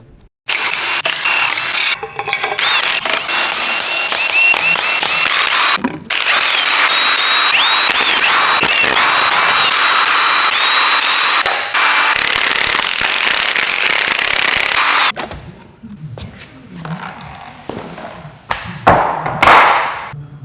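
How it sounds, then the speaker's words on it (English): Passenger cylinder head being removed from a blown-up 2019 Subaru STI engine during a rebuild: loud, continuous clattering, rattling and banging of metal work with sharp knocks, then quieter scattered clunks toward the end. "Let's go ahead and pop the passenger head."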